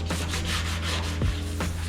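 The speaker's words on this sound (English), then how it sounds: "We're gonna scuff it all, scratch it up good." Abrasive scuffing across a car's painted body panel while stripping paint on a Honda CRX restoration, a steady, close, gritty rubbing with rhythmic back-and-forth strokes and no speech.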